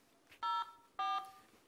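Two short electronic dialing tones, evenly spaced, each beep lasting a fraction of a second against a quiet background.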